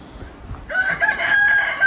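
A rooster crows once, loud and close, in a forest garden in Far North Scotland, after a short quiet moment with faint background rustle.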